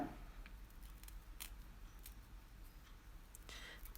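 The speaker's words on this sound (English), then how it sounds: "Just trim it with your scissors." Sharp, faint scissor snips cut through layers of tulle during a craft session, a few scattered clicks over a quiet room background.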